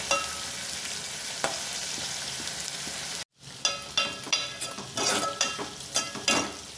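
Sliced onions and green chillies fry in a pan with a steady close sizzle, broken by sharp scrapes and clinks of stirring, a brief silent gap, then louder rhythmic stirring strokes over the hiss.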